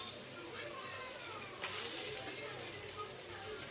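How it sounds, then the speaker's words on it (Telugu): Chopped onion sizzles in a pan with oil, a steady soft hiss with faint stirring scrapes that swells briefly midway, under a voice. "కాస్త గోల్డెన్ బ్రౌన్ వచ్చే వరకు ఫ్రై చేసుకోవాలండి"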